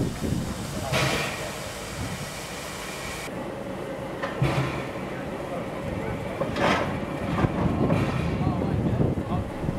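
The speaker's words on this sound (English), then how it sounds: "Nearby the tank loco, we see a 57-class loco in steam." A 57-class steam locomotive stands in steam at the Goulburn rail yard, giving a steady loud hiss and rumble with a few sharper bursts of steam, mixed with wind noise throughout.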